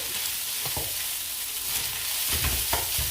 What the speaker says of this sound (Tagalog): kailangan mabilisan lang ang paghahalo para hindi dumikit dahil yung aking kawali ay hindi siya non-stick